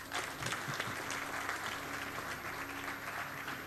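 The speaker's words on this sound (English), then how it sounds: "Let's give a big round of applause," An audience at the inauguration ceremony of a national scientists round table conference gives a steady, even ovation of dense clapping, heard somewhat faint and distant throughout.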